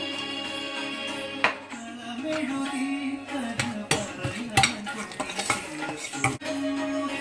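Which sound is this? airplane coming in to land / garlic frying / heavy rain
garlic frying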